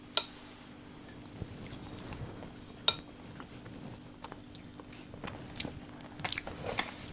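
Cranachan being tasted from a spoon, with quiet close chewing and soft crunches of oats, plus a few sharp clinks of the spoon against a dish, in a quiet room.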